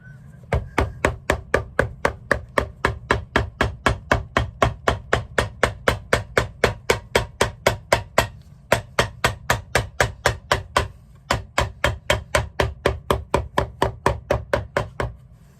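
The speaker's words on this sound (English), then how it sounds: "Some of you may ask why I'm using my hammer handle and what am I doing." A hammer handle pounds repeatedly on a full leather sole of a Florsheim Yuma shoe being resized, a fast, steady run of sharp knocks, close and loud, with two brief pauses in the sequence.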